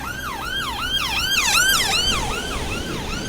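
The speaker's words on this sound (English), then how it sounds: "It's an ambulance today." An ambulance siren wails in repeated rising-and-falling sweeps along Blackpool seafront, loud and close, with a steady traffic rumble underneath.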